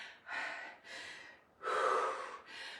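Heavy, audible breaths during a rear-delt shoulder workout, four or five long rasping exhales and inhales in an uneven rhythm, close and fairly quiet with no talking.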